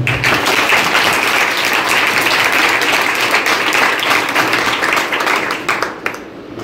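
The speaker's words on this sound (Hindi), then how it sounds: "और सभी एक बार अपने लिए जोरदार तालियां हों" Loud, dense applause from an audience at a school youth parliament event, many hands clapping steadily for several seconds before thinning and stopping abruptly near the end.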